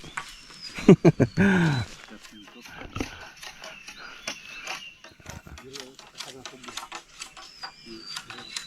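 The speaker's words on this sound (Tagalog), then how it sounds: "Parang nakahuli tayo ng baboy ramo rito ah." A wild boar caught on a farm squeals loudly in a short burst of harsh, pig-like cries near the start, followed by people talking and rustling in the background.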